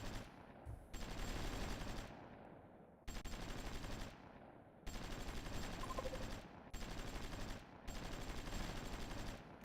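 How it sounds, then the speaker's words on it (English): Missile launches in the strategy game Supreme Ruler 2030 come as rapid, rattling volleys of gunfire-like bursts, several loud sustained runs separated by short pauses, fairly close and with no voices. "they're actually firing missiles"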